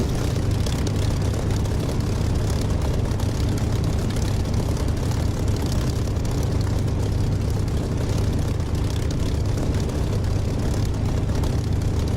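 Steady, loud aircraft engine drone from a plane rolling on the ground after landing in the flight sim DCS, a continuous low rumble with constant level throughout.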